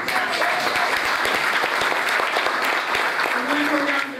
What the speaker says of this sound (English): And one more round of applause for that choir.